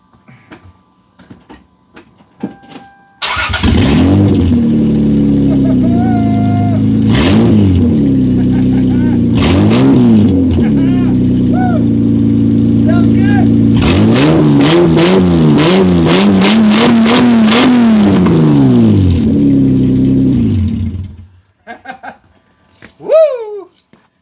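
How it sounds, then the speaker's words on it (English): A loud, raw car engine with no catalytic converter or mufflers fires up and revs repeatedly, rising and falling in sharp bursts, then cuts off, with brief voices at the end. "That engine sounds so good without all that cat pipe mufflers"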